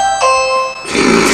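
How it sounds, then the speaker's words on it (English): A doorbell rings indoors, a loud, close ding-dong chime of two sustained tones followed by a brighter burst as it fades. "That's the doorbell."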